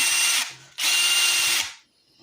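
A Dewalt flex shaft right angle attachment whirs at high speed on a power drill in two loud bursts, a short one and then a longer run, before spinning down, with no talking.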